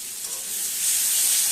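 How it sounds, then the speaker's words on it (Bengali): Ginger, dried chili and coriander paste hitting hot oil with onions and potatoes, a steady bright sizzle that swells louder partway through, close and continuous with no talk. "আদা, শুকনো লঙ্কা আর পাহাড়ি ধনেপাতার পেস্টটা দিয়ে দিলাম।"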